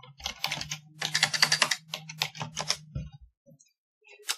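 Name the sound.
typing a search into a computer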